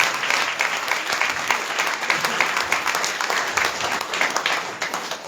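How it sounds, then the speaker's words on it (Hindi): A church congregation claps together to glorify God, a dense steady patter of many hands filling the room, loud and continuous for the whole stretch. "ताली बजाकर प्रभु की महिमा करें।"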